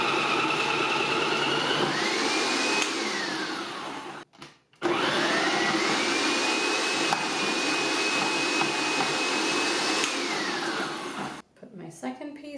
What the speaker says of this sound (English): It just makes it easier for the food processor to shred the cheese.